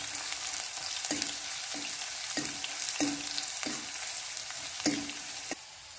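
Kerala-style ginger curry with roasted coconut and green chilies frys in a pan, a soft constant sizzle punctuated by about nine regular scraping stirs of a spoon, heard close and alone.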